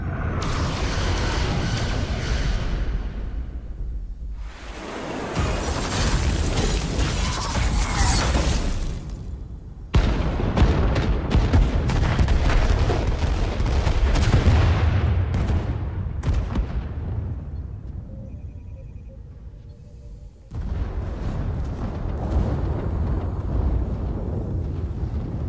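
Starship weapons blasting an enemy ship in the video game Star Trek Resurgence: loud, dense bursts of fire and booming impacts in several long waves, each cutting off abruptly before the next salvo.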